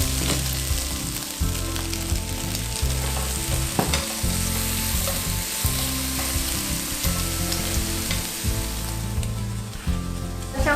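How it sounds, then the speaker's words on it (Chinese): Mature ginger and fresh shiitake mushrooms stir-fry in a pan with a loud, continuous sizzle, while repeated scraping stirs run through it in an uneven rhythm. "我们就放入老姜跟我们的鲜香菇，一样把它炒到稍微金黄"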